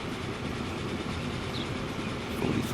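Steam train from the 1930s era rolling along rails in Transport Fever, a steady close rumble and clatter of wheels that runs the whole stretch with no talk.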